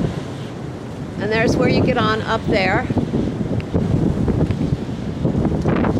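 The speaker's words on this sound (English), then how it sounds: "Very windy out here right now." Strong wind buffets the microphone on the chilly outer deck of the Carnival Splendor cruise ship beside the water slide, a loud continuous rumble and roar with a person talking over it.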